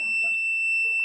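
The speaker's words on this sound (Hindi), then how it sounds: "आप देख रहे हैं इसमें वन साइड बीप की साउंड आ रहा है" A multimeter's continuity buzzer sounds while a diode from a mobile phone is being tested. It gives one steady, high electronic beep that runs unbroken through the whole moment, with no talking over it.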